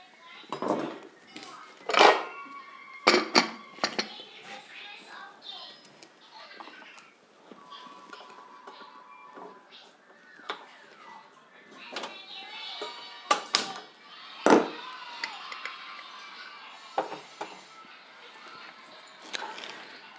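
A pressure cooker is shut and set on a kitchen stove, bringing sharp metal clanks and knocks of pots and lids between quieter handling sounds, with someone talking softly in the background.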